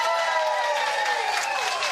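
Rally crowd applauding on cue, a dense wash of clapping held steady and loud from start to finish with no pauses.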